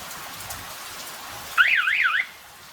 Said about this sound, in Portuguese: Ele deu o sinal que ele ligou, logo em seguida ele desligou, mas ele continua armado.